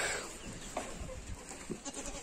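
A goat on a farm gives a few faint, short bleats over a steady background hiss.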